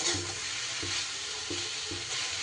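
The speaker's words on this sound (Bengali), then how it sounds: "এবার একটু নাড়াচাড়া করে দিতে হবে কারণ শাক নিচে লেগে যাবে" Nate greens fry in a pan under a constant soft sizzle while a utensil stirs them, scraping in a few evenly spaced strokes, fairly quiet and near, with no voices.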